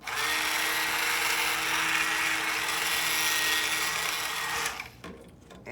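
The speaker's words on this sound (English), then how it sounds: "Very light stick blending. Very low." A stick blender whirs steadily at low speed through cold process soap batter, a continuous high-pitched motor drone close by that stops abruptly near the end, followed by faint handling noises.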